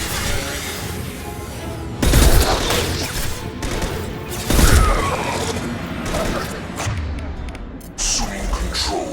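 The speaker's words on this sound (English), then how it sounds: "Here they come again! Hostiles up ahead! Firing a high impact shot!" Gunfire in Mass Effect 2 Legendary Edition, with heavy impact shots and booming bursts punctuating a dense, noisy battle while voices shout over the action.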